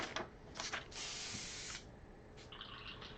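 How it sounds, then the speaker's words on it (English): An airbrush being cleaned out during a marker and airbrush car rendering session gives off several hissing bursts of spray, one long sustained blast in the middle and shorter puffs around it, close and fairly quiet. "Airbrush noises."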